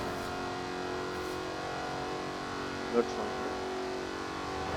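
Jaguar Project 7 sports car in Forza Horizon 4, its engine holding a steady, droning hum with a brief blip of revs partway through, while a voice talks over it.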